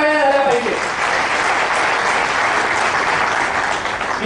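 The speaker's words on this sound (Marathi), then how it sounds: "या सगळ्यांकरता टाळ्या झाल्या पाहिजे" An audience at a Maharashtra Dharma lecture series bursts into loud, sustained applause, with a few words from a voice at the start before the clapping takes over.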